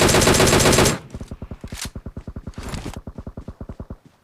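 Automatic gunfire in a shooter video game: a dense, loud burst of continuous fire, then a long run of rapid, evenly spaced shots that fades out at the end.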